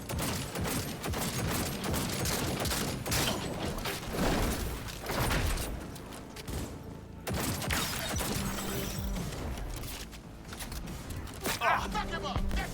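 Gunfire in the video game Cyberpunk 2077: loud, sustained bursts of shooting and mechanical clatter that fill the scene, with voices shouting over the battle and a brief lull midway.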